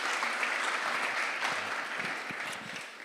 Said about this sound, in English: Would you like to give him a round of applause?